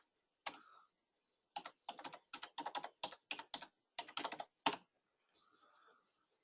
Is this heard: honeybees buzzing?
no